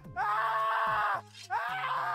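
Two long, harsh screams from a character in the war game Guts & Blackpowder, loud and close, each starting with a strained rising cry and holding as a wailing groan, with a brief gap between them.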